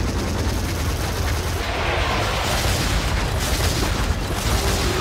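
Rocket launcher in the video game Sanctum 2 firing a dense barrage of rockets, a loud continuous roar of blasts and booms lasting throughout with no talk.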